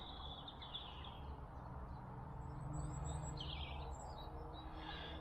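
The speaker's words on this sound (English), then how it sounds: "birds and birds and birds." Birds sing and chirp faintly beside a canal basin in Gloucester, with short calls scattered over a steady low background hum.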